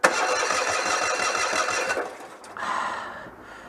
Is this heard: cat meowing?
no